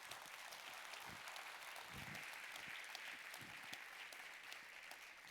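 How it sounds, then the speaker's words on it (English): An audience at a panel discussion on sports and tolerance gives a sustained round of applause, dense and steady from start to end, heard at a moderate distance with no talking. "Ladies and gentlemen, a round of applause for my very"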